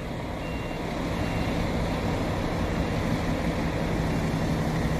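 A coach bus pulls out at a busy intercity bus terminal. A steady diesel engine drone mixes with reversing beeps and the constant hum of the station.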